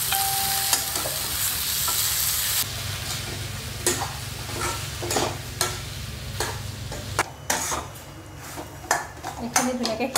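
Spices and cumin powder fry in hot oil in a pan, giving a soft crackling sizzle with sharp clinks of a spoon stirring against the pot, while a person talks.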